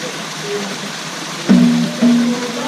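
A mountain stream's clear water trickles and flows steadily in the background on the Annapurna Circuit in Nepal, with a couple of brief tonal hums or whistles over it near the end.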